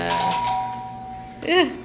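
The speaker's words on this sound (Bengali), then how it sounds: "দরজা খুললেও আবার কলিং বেল চাপে।" A doorbell chimes indoors in a bright electronic ding-dong, two quick tones ringing out clearly, followed by a voice speaking.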